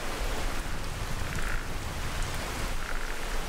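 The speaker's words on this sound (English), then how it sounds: "I'll just stand here in the rain for a while" Dense, steady rainfall in the Skyrim video game, a loud even hiss of drops with low rumbling undertone, continuous throughout.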